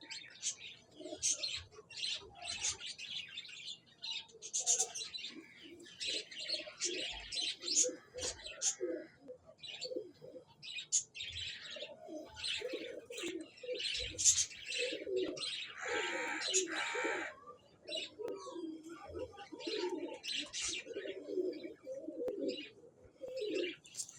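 Pigeons at a pigeon club in Chishtian coo and chirp repeatedly in close, overlapping calls that run throughout, with someone talking intermittently over the birds.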